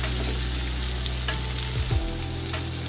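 Steady frying sizzle from grated coconut sautéing in a hot pan for Chettinad crab gravy, with a few soft scraping stirs partway through; continuous and close, no voices.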